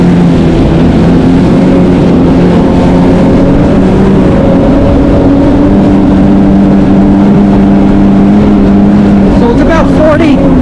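A 2025 Yamaha Waverunner VX Cruiser HO runs up to 6,000 RPM on the water, its engine a loud, close, steady droning whine with a slowly shifting pitch, wind and water rush over it and a voice talking.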